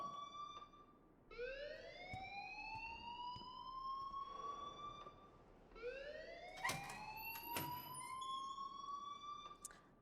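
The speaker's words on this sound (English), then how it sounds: "please turn off that alarm since that's your job" A rising and falling electronic fire alarm siren in the video game Life is Strange, wailing in repeated upward sweeps with bright harmonics, loud and continuous with no talk over it.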